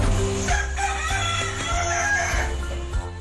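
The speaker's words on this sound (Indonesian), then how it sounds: "inilah ayam serama, ayam terkecil di dunia" A Serama rooster, the world's smallest chicken breed, crows loudly and close, a drawn-out cock-a-doodle-doo over a constant low hum with no voices.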